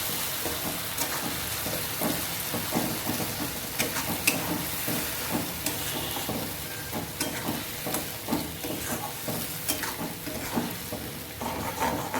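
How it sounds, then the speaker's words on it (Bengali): Spice paste mixed with mashed banana stem fries in a pan with a soft, continuous sizzle, punctuated by repeated scraping stirs of a spoon against the pan, fairly quiet and with no talking. "মশলাটা একটু ভাজা ভাজা হয়ে গেছে, এখন আমি এটার মধ্যে থোর বাটাটা দিয়ে দেবো"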